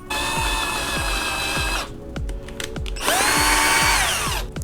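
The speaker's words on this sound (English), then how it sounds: "we're going to drill" A power drill bores into wood for a bathtub caddy, revving in two long loud bursts with a short pause between and rhythmic clicking thuds underneath.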